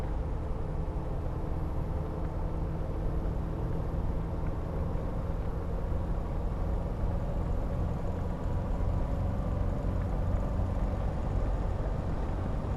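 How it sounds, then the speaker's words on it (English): Steady broadband road and tire roar inside a Land Rover Defender D110 cornering at about 70 to 75 mph, continuous and loud throughout with no talk. "Boy, you can hear those tires."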